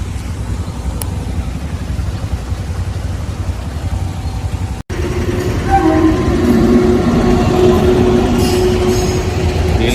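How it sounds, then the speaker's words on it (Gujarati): A fast train roars past a railway crossing with a loud, continuous rumble and clatter of wagons, a brief cut midway, then a brighter rushing wheel noise that builds and stays loud to the end. "રેલગાડી એટલી ફાસ્ટ જાય કે કોઈ દેખાતું જ નહીં"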